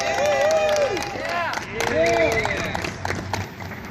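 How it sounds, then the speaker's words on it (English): An audience applauds and cheers for medical marijuana activists at an event, the clapping running steadily throughout while voices ring out loudly over it. "Can I just get a round of applause and gratitude for these activists?"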